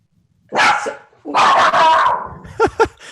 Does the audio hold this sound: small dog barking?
yes